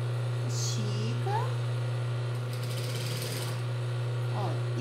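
A sewing machine stitches elastic onto a child's romper, running as a steady mechanical hum and rattle through the whole stretch, with someone talking over it.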